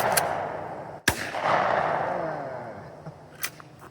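A single loud, sharp shotgun blast fired at a clay target thrown from a ground launcher, close by, with a brief crack and a decaying rumble in open air, followed by faint later clicks.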